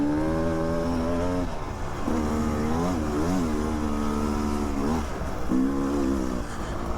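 A Beta 300 RR two-stroke dirt bike ridden on a trail, its engine droning and rising and falling in pitch through throttle changes, close and steady, with no voices.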